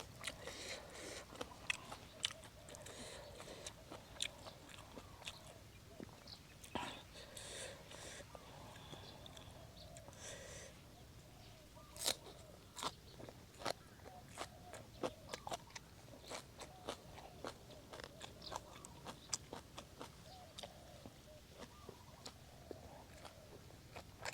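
Close, crisp crunching and chewing of crunchy deep-fried food, including fried meatballs and crispy fried mushrooms, with steady bites and mouth sounds throughout and no talking.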